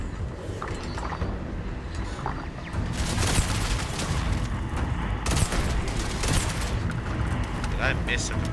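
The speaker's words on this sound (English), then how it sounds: "the turrets and the robots fight against each other" Sci-fi gunfire and booming blasts as turrets and robots fight each other in the video game Starfield, a dense continuous barrage of shots and explosions at moderate distance.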